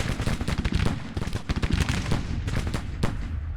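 Rapid Civil War musket volleys from Grand Tactician: The Civil War crackle loudly and continuously, dense overlapping shots with heavier booming reports mixed in and no talking.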